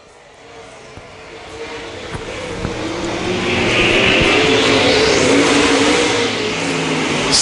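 Modified race cars roar around the track in a qualifying heat race, a dense, continuous engine drone that swells louder midway as the pack passes close, with a rising whine layered over the rumble.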